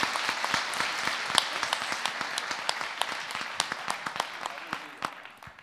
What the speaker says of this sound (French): on va les applaudir toutes les deux, s'il vous plaît.